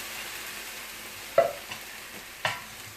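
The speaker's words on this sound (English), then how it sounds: "Love the sizzle." Tomatoes sizzle steadily in a hot pan, a soft constant crackle with a couple of brief clinks from stirring.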